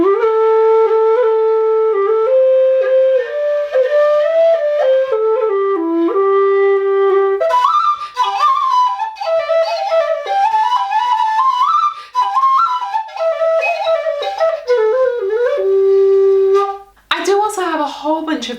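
A Chieftain tin whistle plays a lively melody alone, clear and close, with quick ornamented notes and a brief pause before the final phrase.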